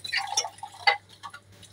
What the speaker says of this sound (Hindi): टू एंड हाफ गिलास मैंने पानी डाल दिया